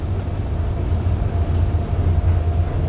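The euro 2 engine of a former Stagecoach Dennis Trident double-decker bus drones steadily on a Manchester sightseeing run, a loud, constant low rumble with some wind buffeting and no speech.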